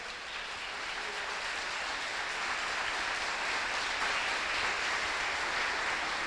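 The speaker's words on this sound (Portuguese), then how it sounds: "aplauda o Senhor." Steady, dense applause from a large church congregation during a sermon, continuous and even throughout, with no voices standing out.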